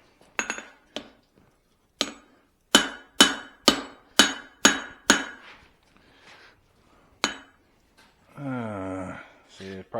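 A blacksmith hammers hot steel into a Swedish style cross peen: roughly ten loud, sharp metallic strikes, a few quick ones then an evenly paced run of ringing blows, followed by a sustained clanging tone near the end.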